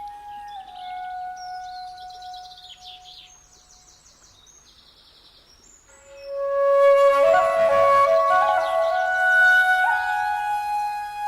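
Long-tailed birds of paradise at Kumul Lodge in the Papua New Guinea highlands give clear whistled calls and tonal notes, fairly close, with a louder burst of overlapping song in the second half.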